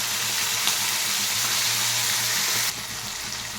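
Diced potatoes with tomato and peas sizzle steadily in a wok, a broad close frying hiss that drops slightly in level near the end, with no talking.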